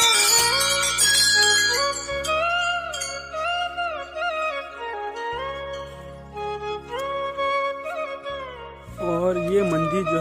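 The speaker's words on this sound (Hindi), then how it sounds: "घंटा का आवाज है।" At the ancient stone Manila Mata temple, a metal temple bell rings in repeated clear strikes, its bright tones sustaining and decaying between hits, with low drone sounds underneath throughout.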